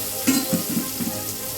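Onions frying in a pan for mutton thokku, a close steady sizzle with a few soft stirring knocks near the start.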